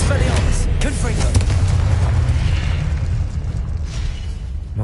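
A Confringo spell explosion in Hogwarts Legacy, a loud booming blast with rumbling low end that decays over several seconds amid combat noise.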